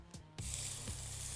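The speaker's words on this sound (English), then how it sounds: "You want to put the steak in the pan and you want to hear that sizzle." Steak dropped into a hot oiled pan, bursting into a loud, steady sizzle after a brief quiet moment, close and continuous with no talk over it.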